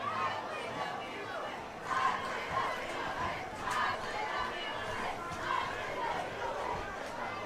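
Stilwell fans at a high school football game cheer from the stands, a distant, steady crowd roar with rising shouts, under a nearby commentator's talk.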